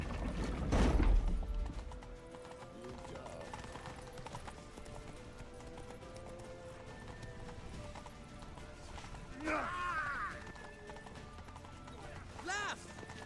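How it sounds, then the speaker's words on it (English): Horse galloping in The Witcher 3, a steady muffled beat of hooves running under game sound, with a whinny and voices heard briefly. "Grab a horse to the temple!"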